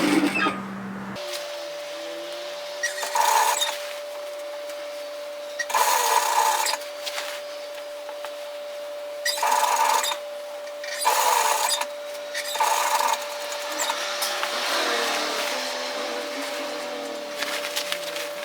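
A sewing machine stitches through layers of gathered dress fabric in several short bursts of rapid, close mechanical whirring, separated by brief pauses, over a steady faint background hum.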